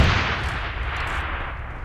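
Distant RPG rocket explosions in the mobile battle royale game PUBG Mobile Lite, a deep rumbling boom followed by a rolling low-frequency tail with no speech over it.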